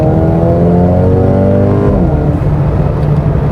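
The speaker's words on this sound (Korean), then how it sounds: "그 고회전 사용할 때 실내로 들어오는 그 엔진 음량이 굉장히 크고요" A 2021 Mercedes-AMG A 35 4Matic engine revs hard at high rpm, a loud, steady droning roar with rising and shifting pitch, heard from inside the cabin.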